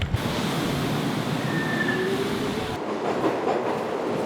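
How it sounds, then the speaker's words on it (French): A metro train in Japan rumbles along steadily with a broad, continuous roar, a faint squeal rising briefly above it, then the sound dulls and softens partway through as the ride continues. "c'est parti pour un petit coup de métro, un petit coup de train"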